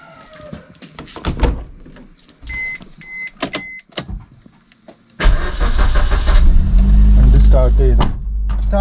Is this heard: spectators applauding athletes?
no